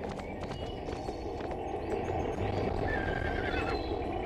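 Horse whinnying and hoof clip-clop in the Barbie: Wild Horse Rescue video game, a steady running gallop with a neigh over a dense, continuous game soundscape, no talk.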